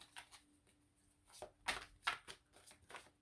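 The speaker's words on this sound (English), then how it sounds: "Let's shuffle." Tarot cards being shuffled by hand in a quiet room, a string of soft riffling and slapping bursts that build in the second half, close and faint, with no talking.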